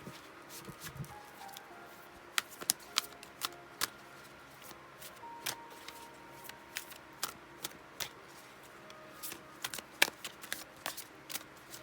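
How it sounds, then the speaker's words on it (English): Tarot cards riffled and shuffled repeatedly, a steady patter of crisp snapping flicks close by in a quiet room, no voices. "Give it one more shuffle here."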